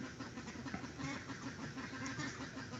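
Several ducks quack in a dense, continuous chorus, close and fairly loud, with overlapping calls throughout and no speech.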